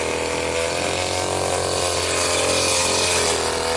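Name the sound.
grass cutter cutting tall weeds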